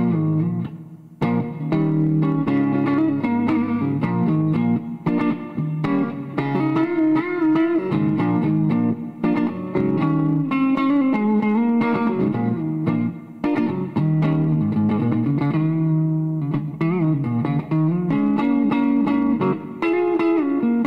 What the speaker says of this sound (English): Even more reverb here, of course.